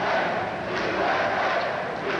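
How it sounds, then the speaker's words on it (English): A large crowd at the 1986 Goodwill Games chants USA, a loud, steady roar of many voices filling the arena throughout. "You hear the chant of USA"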